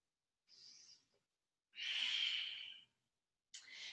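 Slow, audible breaths drawn in and released during an advanced vinyasa yoga pose, close and airy: a brief inhale, a longer full exhale, then another breath starting, with silence between.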